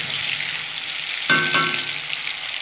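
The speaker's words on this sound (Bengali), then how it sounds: "ভাজা ভাজা করে নেব আলুটা।" Potatoes frying in hot oil as part of a boroli fish preparation, giving a steady close sizzle with a brief louder burst of crackling midway, no voices.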